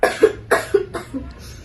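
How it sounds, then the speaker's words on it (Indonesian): Four harsh coughs, the coughing of someone gravely ill, come in a quick series, loud and close, each shorter and weaker than the one before. "Yang tadinya hanya batuk biasa menjadi batuk berdarah."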